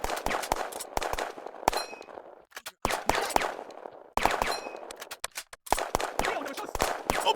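A video game firefight with dense gunfire: rapid automatic bursts and single sharp shots in clusters, separated by brief near-silent gaps, loud and close.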